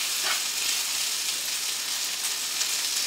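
Chopped garlic and beef with Worcestershire sauce sizzle in a pan, a steady, close hiss of frying that runs evenly throughout with no one talking.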